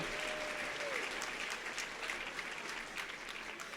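An audience at a school district awards ceremony claps in sustained applause, a dense patter of many hands that stays steady throughout.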